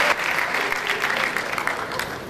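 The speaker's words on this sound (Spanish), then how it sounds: "Aplauso, por favor" An audience applauds at the closing ceremony of the Mar del Plata film festival, dense steady clapping filling the hall, loud and unbroken with a faint voice or two beneath.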